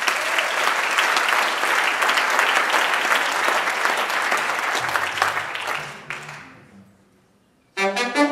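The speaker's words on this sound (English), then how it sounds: "Give him a big round of applause." An audience at a live blues concert at the Museum of Fine Arts Boston claps loudly and steadily. The applause fades out and is followed by a brief burst of sound at the very end.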